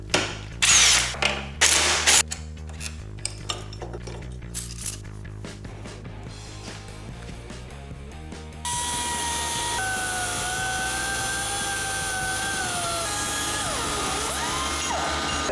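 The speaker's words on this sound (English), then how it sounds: "Let's take the kickstand off and we'll cut it up." A power tool cuts up a motorcycle kickstand on a Yamaha MT-07, heard as loud, close grinding bursts that start and stop, then settle into a steady, sustained high whine.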